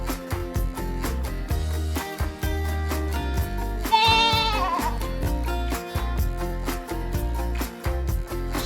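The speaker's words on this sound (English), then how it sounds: "It's a goat." A goat's bleat from a children's farm animal lesson, a quavering cry over a busy musical backing with steady beats throughout, the bleat standing out briefly near the middle.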